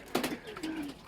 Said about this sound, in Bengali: এই যে কোয়েল পাখিগুলো প্রচুর পরিমাণ